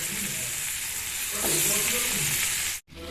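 Zucchini pieces fry in a pan over a slow flame, a dense steady sizzle close up that continues throughout before cutting off abruptly near the end.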